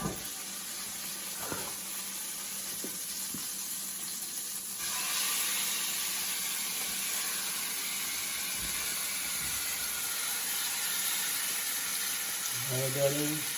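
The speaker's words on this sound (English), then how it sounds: "Once that gets hot, we're gonna add in the meat, and we're gonna add in a little bit of onions." Meat is added to a hot pot for beef stew, and a broad, steady sizzle rises partway through and then holds, with a quiet hum and a few light knocks before it.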